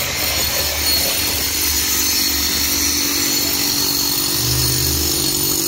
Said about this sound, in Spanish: anda Don Cocho haciendo unos agujeros